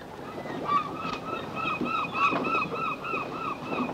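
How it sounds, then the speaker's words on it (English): Seagulls call repeatedly over the seaside with a string of honking, squawking cries over a steady wash of waves and wind. "And some seagulls flying about."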